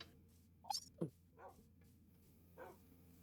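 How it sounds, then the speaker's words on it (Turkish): A dog in a Minecraft survival video game gives a few short, faint barks and yips, spaced apart over a low steady background hum. "Aa köpek var lan burada"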